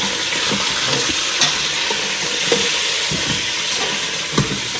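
Water poured into a pot of fried taro and meat, a soft steady hiss and sizzle running throughout with a few brief clicks of pot contact.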